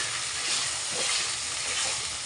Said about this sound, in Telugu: అదేవిధంగా కొంచెం కరివేపాకు యాడ్ చేసి బాగా ఫ్రై చేయాలి.